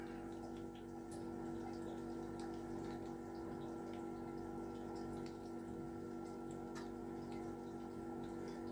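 A pump in a home-brewing setup runs steadily, moving water through the mash for an Irish Red Ale with a constant mechanical hum and drone and faint liquid trickling throughout.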